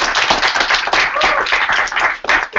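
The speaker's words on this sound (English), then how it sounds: "Can we give a big round of applause" Crowd applause for a senior scholarship winner at a company alliance meeting, a dense continuous wash of many hands clapping, loud and close for the whole stretch with a brief dip near the end.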